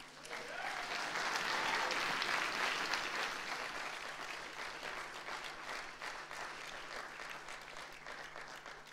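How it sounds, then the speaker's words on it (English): A wedding crowd applauds steadily for nearly nine seconds, the clapping swelling early and then holding at a dense, even level before easing slightly toward the end. "give them one more round of applause"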